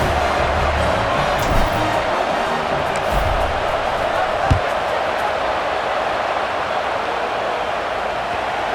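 Stadium crowd in the College Football 26 video game, a steady broad roar of a large audience at kickoff, continuous and fairly loud with a brief thump midway, no clear talk over it.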